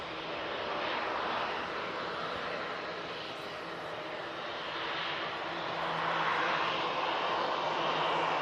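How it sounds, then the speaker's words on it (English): An EasyJet airliner departs Manchester Airport, its jet engine roar broad and steady, swelling and easing in loudness at moderate distance, with no talking over it. "That's another EasyJet flight off to Bilbao."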